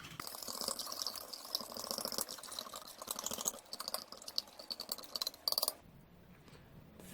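A spoon stirs a vintage 1991 MRE powdered drink, giving a rapid series of light clinks and scraping taps against the container that end sharply near the close.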